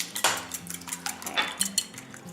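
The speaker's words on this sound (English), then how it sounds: "we'll get that all whisked up all nice and smooth" Eggs being whisked in a bowl, a quick series of close clinks and taps of a whisk against the bowl, uneven in rhythm, with no talking.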